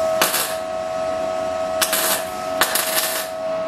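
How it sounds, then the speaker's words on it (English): Tack welding on the inner wheel arch of a Mercedes W108, heard as three short crackling bursts of spot welds separated by pauses, over a steady background whine. "Start tack welding up this end."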